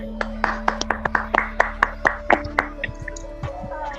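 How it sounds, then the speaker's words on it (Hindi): A crowd at a network marketing event in India claps in a quick, steady rhythm of sharp hand strikes for about four seconds, with a low hum beneath. "नाम लेने से पहले मैं एक बार ताली जरूर चाहूंगा, आदरणीय सुजीत कुमार सिंह और मंजीत कुमार सिं"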